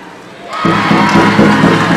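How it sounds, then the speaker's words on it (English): A volleyball team's bench erupts in loud cheering and shouting inside a gym, rising suddenly from quieter background and continuing as an energetic crowd roar. "bench of theirs is cheering and enjoying the game"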